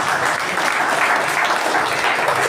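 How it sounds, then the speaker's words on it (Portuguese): Steady, dense applause fills a church gathering at a constant loud level, with no voices breaking through. "De palmas para Jesus"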